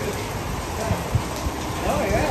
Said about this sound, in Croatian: baš je sad počela velika kiša